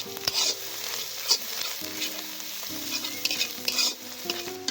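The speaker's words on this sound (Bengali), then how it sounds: "তো মশলা ভাজা হয়ে গেছে" Chili and turmeric spices fry in a pan at an outdoor jungle campsite, giving a steady close sizzle broken by repeated scraping stirs, with no talking.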